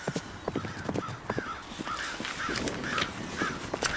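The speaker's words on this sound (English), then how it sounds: "A flock of crows interrupted his melancholy with a rising sound of alarm" A flock of crows caws in alarm, harsh repeated calls overlapping at close to middle distance, with a steady rustle of background noise beneath.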